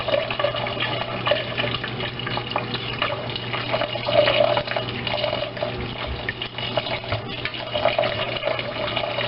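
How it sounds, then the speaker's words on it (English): A strainer being washed under a running kitchen tap, a steady loud rush of water with splashing that changes slightly as the strainer moves through the stream, continuous throughout. "So I just washed one of my strainers."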